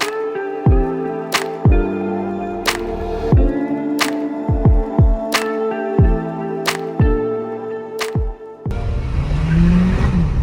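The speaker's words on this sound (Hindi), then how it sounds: "व्हील स्पिन मार रहा है भाई" A Volkswagen Virtus GT carrying five people accelerates hard with wheel spin, the engine revving loud and close in repeated rising sweeps, each ended by a sharp click, then settling into a rougher roar at the end.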